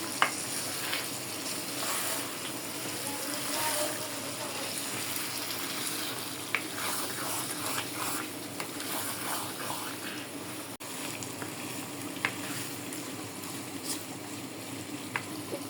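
Beef mixed with spices, mustard and poppy seed, stirred and frying in a pan for a wedding-style Bengali curry; a soft continuous sizzle with scattered stirring clicks, fairly quiet and without speech.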